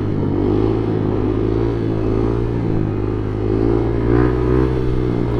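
A BMW K1200 motorcycle engine drones steadily while being ridden, a loud continuous low hum with wind noise and no speech.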